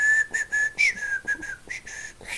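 A person whistles a short tune imitating a character's whistle, several clear breathy notes in a bouncing rhythm, close and alone.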